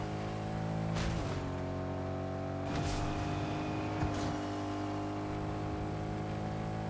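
A car driving in Fortnite, a steady engine hum with a few sharp bumps or knocks spaced about every second or so, moderately loud with no talking.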